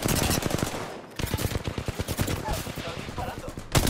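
Rapid automatic gunfire in the battle royale shooter Apex Legends, a close, loud burst of evenly spaced shots with a brief pause, then more firing.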